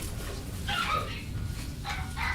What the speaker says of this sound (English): Dog approves.